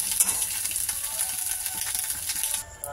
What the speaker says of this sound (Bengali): এই যে ডিমটা আগে একটু ঝুড়ি ঝুড়ি করে ভেজে নিই।